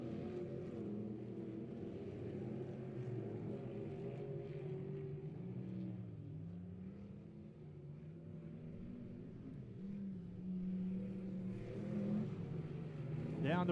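Race cars at Lebanon Midway Speedway roar down the front stretch during a championship chase event, a steady, loud engine drone with rising and falling pitch that swells near the end.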